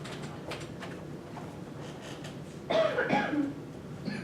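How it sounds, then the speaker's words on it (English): A single short cough rings out in a quiet classroom, followed by a brief throat sound, with no talking. "No coughing in class."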